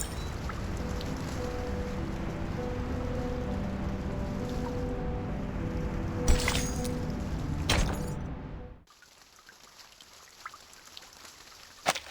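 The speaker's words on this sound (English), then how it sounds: "It's the rain! It's raining outside!" Steady rain in the game Reverse: 1999 hisses and patters continuously for several seconds, then cuts off abruptly, leaving a quieter room tone with a few faint knocks.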